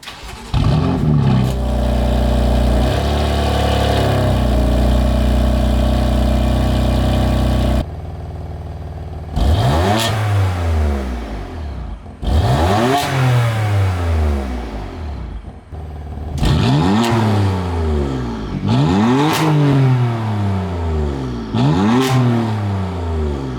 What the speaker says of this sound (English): let me go ahead and get you guys a cold start